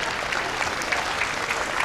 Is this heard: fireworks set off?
no